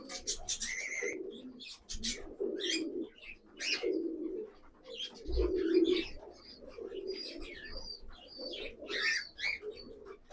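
Pigeons in a loft coo repeatedly in low, throaty rolling calls, several birds overlapping at close range, with occasional higher chirps and faint rustling between the phrases.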